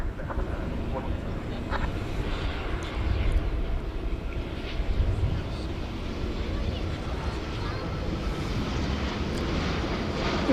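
A Boeing 787 airliner at DFW Airport at night, its jet engines producing a steady, broad roar that swells briefly midway, with a person talking quietly over it.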